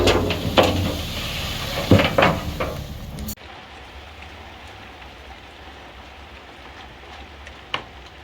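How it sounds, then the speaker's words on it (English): Steady rain falls on a gloomy day, hissing evenly in the background, with louder clatter and rustling up close during the first few seconds. "It is a gloomy, rainy day"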